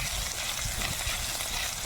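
A dense, steady crackling sizzle of cumin, dried red chilli and bay leaf frying in hot oil previously used for frying crab, close up and continuous.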